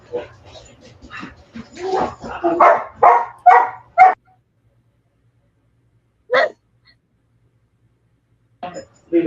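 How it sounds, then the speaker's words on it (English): Several dogs yip and bark in a quick excited burst, then two more isolated barks follow after a pause, with a voice speaking nearby. "My dogs are going to go crazy."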